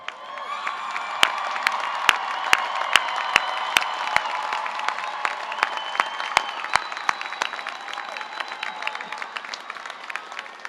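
Crowd at a university commencement ceremony cheering and clapping, a broad, sustained roar of applause with whoops and shouts from many people, sharp clicks scattered through it, staying loud throughout.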